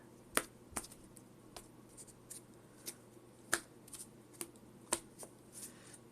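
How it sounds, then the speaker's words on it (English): A deck of Pokemon trading cards being shuffled on a table, giving a series of sharp riffling snaps and clicks at irregular intervals, close and fairly quiet. "we'll just shuffle twice, and then cut a bunch of times for each of these decks"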